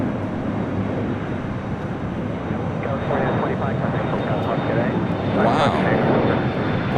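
A Lufthansa jet airliner flies near LAX at night, a steady broad engine roar that swells slightly toward the end, with faint background chatter.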